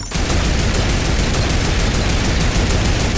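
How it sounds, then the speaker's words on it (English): Turret gunfire in a video game roars as a dense, continuous burst of rapid shots, loud and close, filling the whole stretch with no talk over it. "get back on the turret and shoot it down"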